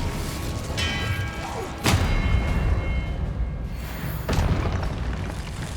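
Expelliarmus spell cast in the Hogwarts Legacy video game, two sharp magical impacts about two seconds apart, each a bright broadband crack with a low thud, over a steady rumbling game backdrop.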